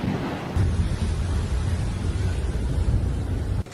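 Dense, steady roar of heavy rain with hail in a Moscow storm, with a deep rumbling low end like wind and distant thunder, constant throughout with no voices.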